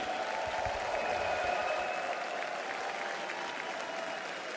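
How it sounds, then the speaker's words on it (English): Arena crowd at The International 2025 Dota 2 event in Hamburg cheering and applauding, a dense, steady wash of claps and shouts filling the hall at full volume throughout. "Hamburg, make some noise for one of the best position 4 players in the world, 9 class and Pvision."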